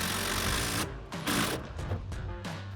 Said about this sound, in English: Now we're going to use a 17mm socket on our impact to tighten this down.